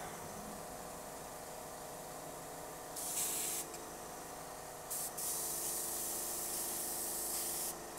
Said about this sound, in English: I'm going to run a little bit of paint out after I've cleaned my brush